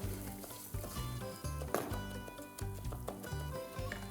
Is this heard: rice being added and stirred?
yes